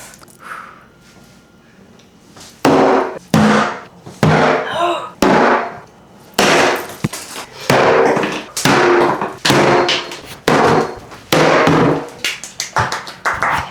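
Repeated heavy hammer blows crack and splinter wooden closet shelves during demolition, a dozen or so sharp impacts in uneven bursts after a quiet start, loud and close.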